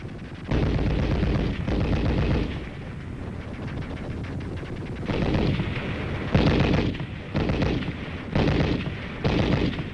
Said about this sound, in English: As the machine gun bullets spattered a murderous background to this baptism of fire